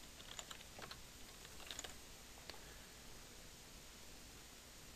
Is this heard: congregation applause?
no